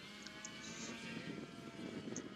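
Bavarian Demon Cortex RC airplane hovering in gusty wind, its small propeller motor giving a faint, steady distant drone with slight throttle swells.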